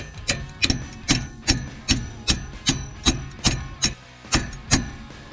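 Hammer tapping a bushing back into a BDS dual steering stabilizer on a 2019-2024 Ram Cummins truck: about a dozen sharp, evenly spaced metallic knocks, close and fairly loud, with no talking.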